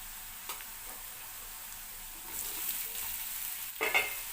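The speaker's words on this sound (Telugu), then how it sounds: "ఇప్పుడు ఆలు వేసుకుందాం దీంట్లో" Sliced potatoes frying in a pan with turmeric for an okra-onion fry, a soft steady sizzle that swells with stirring scrapes and a louder clatter near the end.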